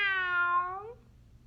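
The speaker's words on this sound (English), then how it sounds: "I think maybe it was a cat." A single drawn-out cat meow, fairly faint, sliding slightly downward in pitch and fading after about a second, with a low background murmur and no talking.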